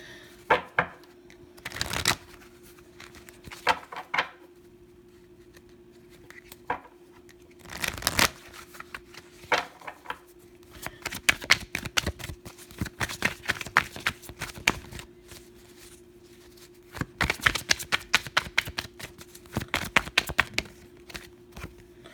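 Oracle cards from a Matters of the Heart and Soul deck being shuffled by hand, giving bursts of crisp riffling and flicking clusters separated by quiet pauses, close and alone against a faint steady hum.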